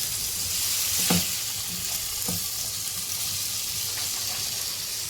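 Potato and peas frying in hot oil for a Punjabi samosa filling give a steady, close sizzle, with a few sharper scraping stirs near the start and middle.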